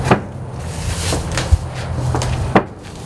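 A door on a cattle chute at a Wagyu bull's palpation station swings open, giving a few distinct metallic clacks and knocks over a low steady background rumble.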